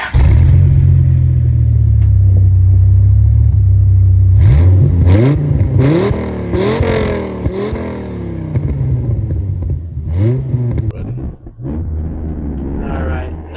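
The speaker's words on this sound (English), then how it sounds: "now we're behind the wheel of the Gen 2 Viper, and it does what it's meant to do. It gets down and it goes." A 1996 second-generation Dodge Viper's engine idles with a deep, loud rumble, then revs up through rising and falling gear pulls under way, the roar dropping and swelling again near the mic.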